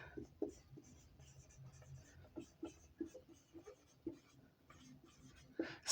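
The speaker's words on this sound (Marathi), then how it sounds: "म्हणून मी पुढचा क्वेश्चन लिहितो, 14वा क्वेश्चन." Chalk or marker writing a question on a board during a biology lesson on blood composition, a series of faint, quick taps and strokes in an irregular rhythm, close but quiet.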